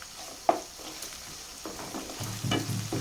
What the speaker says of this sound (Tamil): கூடவே ஃப்ரெஷ்ஷான கருவேப்பிலையும் சேர்த்துட்டு இதை நல்லா வதக்கி விட்டுக்கலாம்.